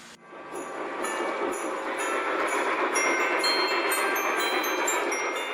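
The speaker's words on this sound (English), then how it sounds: "That's a fine-looking Christmas train." A toy Christmas train runs along its track with a steady, close rolling rumble and faint ringing metallic tones layered on top. The sound continues without a break from start to finish.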